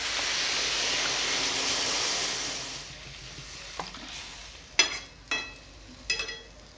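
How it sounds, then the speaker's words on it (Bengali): Water poured into a hot pan of fish-head curry gives a loud broadband sizzling hiss that slowly fades, followed by a few sharp clatters and scrapes of a utensil against the pan. "এবারে জল দিয়ে দিব।"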